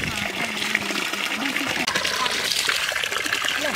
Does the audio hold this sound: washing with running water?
yes